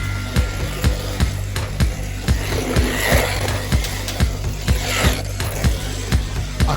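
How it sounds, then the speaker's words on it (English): A Scalextric Formula E Mahindra Racing slot car runs around the track, an electric whine under rhythmic clacking as it passes over track joins about every quarter second, heard alone. "The Scalextric slot car on the track sounds better than a real-life Formula E car."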